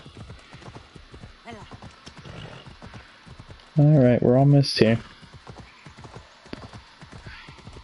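A horse gallops in Assassin's Creed Odyssey with fast, steady hoofbeats close by, and a loud whinny breaks in midway while someone talks over it.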